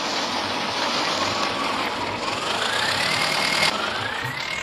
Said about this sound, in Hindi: चलो चला कर देखते हैं अपने हॉलैंड का ट्रैक्टर को